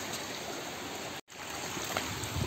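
Running water outdoors under a bridge, a steady close rushing splash used to wash mud off a leg, continuous with one brief dropout in the middle.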